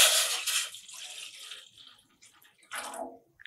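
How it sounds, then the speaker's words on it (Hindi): Water poured from a tap into a saucepan while making tamarind samosa chutney: a strong splashing stream at first, tapering off, then a second short burst of running water near the end, close and clear. "सबसे पहले हमने क्या करना है कि इसमें पानी डालना है"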